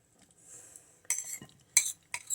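Fruit soaked in liquid is spooned into fruitcake batter in a bowl, giving a few close, wet clinks and scrapes of the spoon against the bowl, separated by brief quiet gaps.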